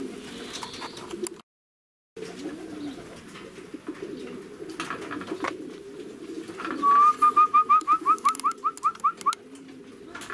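Racing pigeons coo softly in a loft against a steady low background, followed near the end by a close, rapid series of bright repeated calls.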